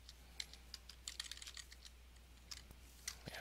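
Password keys tapped on a computer keyboard, a quick irregular run of light clicks over a steady low hum, alone with no voices.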